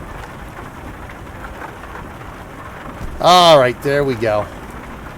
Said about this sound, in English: We finally got some rain here.